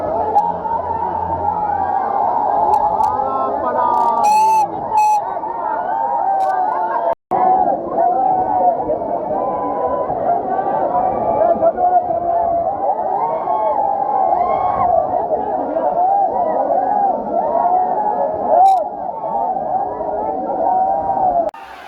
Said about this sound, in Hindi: शोर हो रहा है कि कुछ बोला नहीं जा सकता। बहुत भीड़ है,